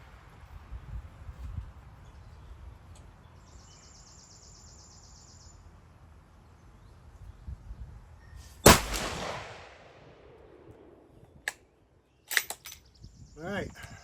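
A .458 SOCOM rifle fires at an outdoor range: one loud, sharp report with a decaying tail, then a few sharper cracks and clicks near the end, over quiet background hiss.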